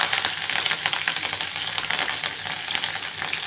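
Green chilies sizzling and crackling in hot oil in a kadhai with curry leaves and cumin while making poha, a steady close frying hiss with scattered sharp pops, with no talking.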